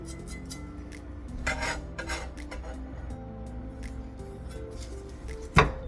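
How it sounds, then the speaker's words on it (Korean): A knife chops garlic chives on a cutting board for a tomato and egg stir-fry, giving quick, light, irregular taps that thin out, followed later by a single sharper knock. "이렇게 부추를 썰어 놓고"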